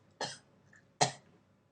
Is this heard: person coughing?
yes